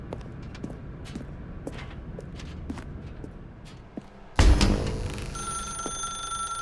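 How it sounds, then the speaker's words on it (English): A telephone rings in The Stanley Parable, a loud, bright ring bursting in suddenly after quiet footsteps and ambient noise, then holding steady and sustained to the end. "Now pick up the phone"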